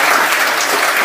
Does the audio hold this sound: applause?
yes